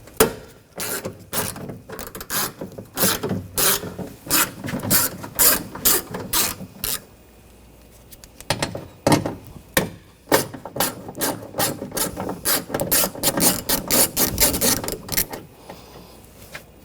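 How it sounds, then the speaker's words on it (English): A 10mm socket ratchet clicks rapidly in bursts while removing the window regulator nuts on a rear door of a 2014-2020 Nissan Rogue, with several runs of close, loud pawl clicking and brief pauses between them. "Take these two nuts out."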